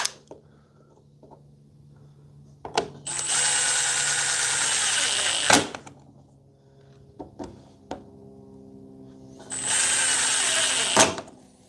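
Two bursts from a cordless cut-off tool cutting into wood, a Dewalt 20V DCS438 or Milwaukee M12 2522, each give several seconds of loud, steady high whine. Clicks and handling knocks sit between the bursts.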